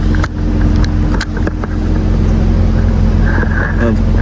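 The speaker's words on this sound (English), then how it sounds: "see the sound of this V8." A 2001 BMW E39 Touring V8 engine rumbles steadily at idle with a low, throaty exhaust, a few brief blips and some faint background voices.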